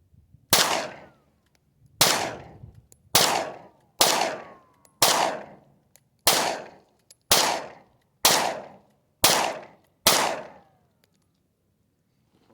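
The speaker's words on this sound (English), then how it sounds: "I think I've hit it 2 or 3 times, but I've shot like 6 times." Nine sharp pistol shots from a Taurus G2C fed by a Pro-Mag 15-round magazine ring out at a measured, roughly one-per-second pace, each crack loud and followed by a quick decaying echo outdoors.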